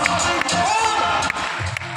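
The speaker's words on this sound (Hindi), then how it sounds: "सोनाली देव के लिए एक बार जोरदार तालियां चाहूंगा।" A seminar audience at a direct selling event in India breaks into applause, a brief burst of clapping and crowd noise with a few whoops, fairly close and continuous.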